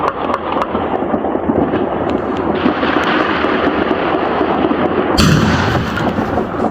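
New Year's gunfire heard from a recording: a rapid series of loud, sharp shotgun blasts and booming reports, some close and some farther off, crackling on continuously over the steady background roar of the night.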